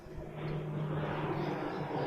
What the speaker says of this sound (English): It was a small matrix plane just overhead there.